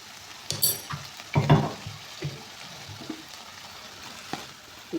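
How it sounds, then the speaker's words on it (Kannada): Chicken fried rice sizzles gently in a pan, with a few louder stirring scrapes and clinks early on, then a softer steady frying hiss. "ಫ್ರೈ ಮಾಡೋಣ"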